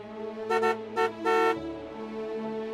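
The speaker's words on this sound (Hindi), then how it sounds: "जितने जोर से मेरे ब्रो ने हॉर्न बजाया ना" A car horn honks in three short blasts, the last one held a bit longer, followed by a steady lower hum.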